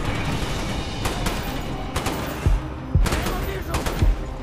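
Gunfire in Call of Duty: Black Ops rattles in repeated bursts with heavy thuds, loud and close amid game background noise.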